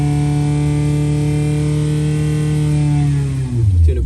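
A 998 engine under load on a dyno gives a loud, steady, buzzing drone held at constant revs that drops away sharply near the end, heard close and alone without speech.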